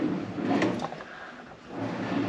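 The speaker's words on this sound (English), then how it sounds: "Nightstand drawer." A hotel nightstand drawer in a corner room at Disney's Boardwalk Inn slides open or shut with one short wooden scrape close by, set against steady room hum.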